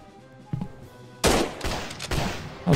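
Gunfire in the video game The Bluecoats: North & South, a single shot followed by a loud burst of volleyed musket fire and several more sharp reports, close and loud.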